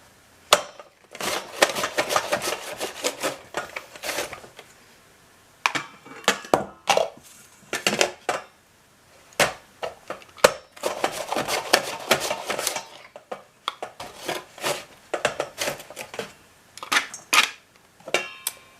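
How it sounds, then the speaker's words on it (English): Onions sliced on a kitchen slicer give quick runs of crisp scraping and chopping strokes in bursts with short pauses between them, close up and alone. "So we're just going to use the slicer."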